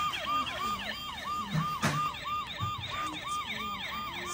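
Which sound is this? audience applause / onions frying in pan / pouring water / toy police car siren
toy police car siren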